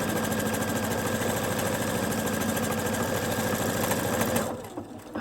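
A sewing machine runs on its own, steadily stitching over a hole in a garment, with a continuous mechanical chatter that cuts off near the end as it stops automatically.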